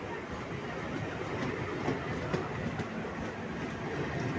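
Another Mumbai local train running past at Virar station, a continuous rolling rumble with clickety-clack wheel beats and light metallic squeaks, near and steady.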